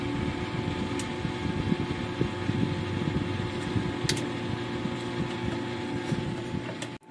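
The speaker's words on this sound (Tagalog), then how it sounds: "Ginamit kong fan dito ay 4x4 na Sonon" A 4x4 Sonon fan blows air inside an egg incubator, a steady close whirring hum with faint mechanical ticks, running continuously before cutting off at the end.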